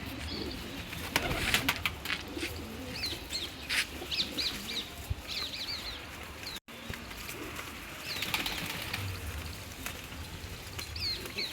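Pigeons coo amid a busy chorus of chirping birds, with scattered clucks and rustling throughout; among them a yellow-colored pigeon.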